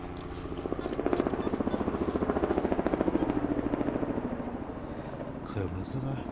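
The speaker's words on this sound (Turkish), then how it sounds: "Helikopter beni arıyor herhalde." A helicopter flies over a forest, its rotor chop a steady rapid thudding that swells and then eases slightly as it passes at moderate distance.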